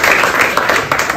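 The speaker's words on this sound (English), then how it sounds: "Give her a round of applause." Audience at a live mentalism performance gives a brief burst of applause, close and fairly loud, with scattered claps filling the whole moment.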